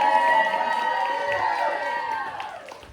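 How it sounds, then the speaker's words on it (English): A dating show's studio audience cheers and claps loudly, the noise swelling briefly then slowly fading over a few seconds. "Audience, you just give them a round of applause just for Kira."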